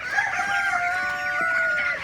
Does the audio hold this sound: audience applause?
no